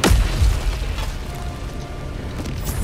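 An artillery piece in a video game blows up after a hit from a quasar cannon, a deep rumbling boom that opens loudly and then rolls on as a sustained low roar.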